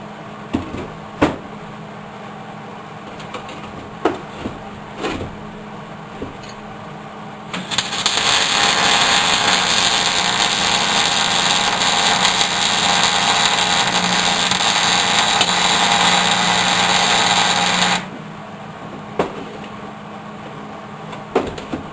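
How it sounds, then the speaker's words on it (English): A welder laying a bead on a mini woodstove, a steady loud crackling hiss lasting about ten seconds, with scattered clicks and knocks before and after. "All right, we got a pretty tight weld there, and just a couple of beads"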